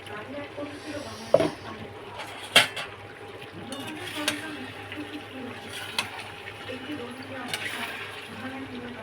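Potatoes are dropped into a pot of cooked-down meat curry, with a couple of sharp metallic clanks and some scraping and stirring against the pot, under scattered talk.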